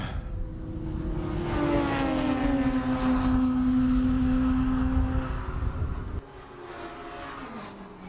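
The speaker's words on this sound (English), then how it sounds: "a familiar whine from the Hewland gearbox as it goes down through" A race car in a Roadsports race roars past with a high, sustained Hewland gearbox whine that holds steady, then drops away abruptly as the car moves off.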